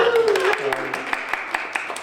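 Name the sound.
audience applause at a community meeting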